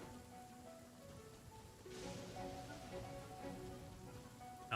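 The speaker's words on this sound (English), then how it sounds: "Oh, yeah, it's raining, so it extinguishes right away." Steady rain patters down in the Genshin Impact video game, a continuous soft hiss of drops with faint game music tones running beneath and a slight swell partway through.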